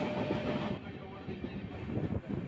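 The Mysuru-Shirdi Express rolls along its rails on the approach to Tumakuru railway station, a steady close rumble and rattle of the carriages with no voices.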